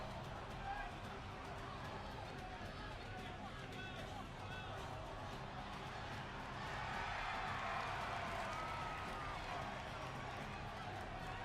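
Crowd cheering and murmuring in a wrestling-style Rumble video game, a steady wash of spectators' noise that swells slightly louder toward the end, with no clear speech over it.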